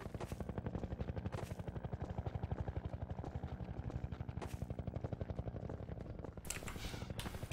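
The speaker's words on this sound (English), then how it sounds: "You have to wait for the helicopter there." Helicopter in the video game Half-Life 2: Episode 2, a steady, loud rotor chop that beats in a fast, even rhythm and holds close throughout, with a few brief bright bursts layered on top.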